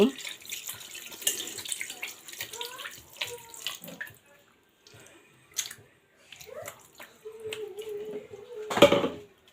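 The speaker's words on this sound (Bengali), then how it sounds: "এখন আমি পরিমাণ মতো পানি দিব।" Water poured into a pot of beef curry with potatoes in a Bengali kitchen, a splashing stream in several short pours with pauses, ending in a louder gush, close by.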